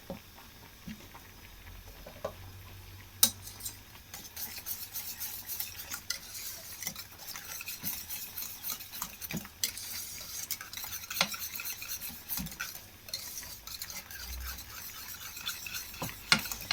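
A cup of mayonnaise is stirred and folded into a thick egg and potato salad in a bowl, giving soft, wet squelching and scraping with occasional utensil taps against the bowl, steady and fairly quiet throughout.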